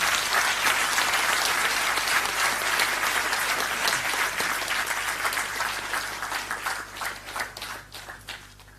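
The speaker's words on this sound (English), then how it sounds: "Please give him a round of applause." An audience at a Hindu Research Foundation event gives sustained applause for Sridharan ji. The dense clapping holds steady, then thins and fades toward the end.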